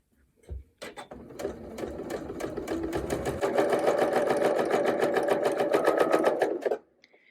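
A sewing machine stitches a curved seam on a half-circle quilt block. After a couple of starting clicks it runs in a loud, close, rapid rhythmic chatter that builds slightly, then stops abruptly.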